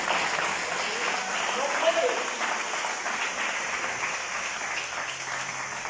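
A church congregation claps at a sermon, with steady, moderately loud applause over a faint background voice.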